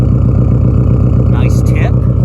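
Turbocharged Subaru Outback XT with an aftermarket cat-back exhaust rumbling at a steady low idle, loud and close, with someone talking over it.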